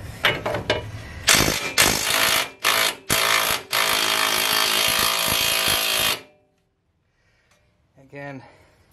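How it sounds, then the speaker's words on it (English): A Makita impact wrench hammers at the strut of a 2013 Ford F150 during coil spring and strut replacement, firing in loud rattling bursts for several seconds before stopping, followed by quiet, faint clicks and a short soft noise. "I was using my handy dandy Makita impact"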